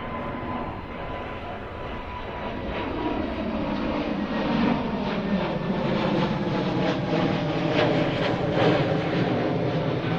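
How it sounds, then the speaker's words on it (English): A brand-new Lufthansa Airbus A320neo rolls for takeoff on runway 23 right at Manchester Airport, its jet engines a steady loud roar that swells as the aircraft accelerates, with no talking over it. "the A320 Neo, Lufthansa, brand new aircraft. On the roll now."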